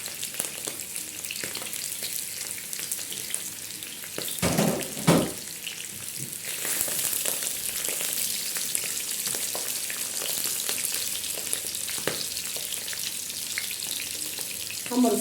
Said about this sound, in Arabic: نديله تحميره كده نشوحها في الزيت